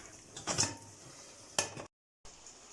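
Pasta with artichokes stirred in a pan with a little barigoule broth, two short scraping clatters of utensil against the pan followed by a brief dropout, close and quiet.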